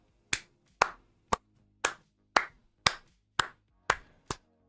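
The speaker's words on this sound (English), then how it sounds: "You deserve a round of applause for dealing with my ass for 40 months." Nine crisp, isolated hand claps at a slightly uneven pace, close and clear against near silence, with no talking.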